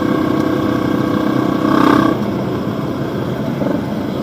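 A Honda XR250 dirt bike engine drones steadily and loud during wheelies, rising briefly to a higher-pitched rev in the middle before settling back, with no voices over it.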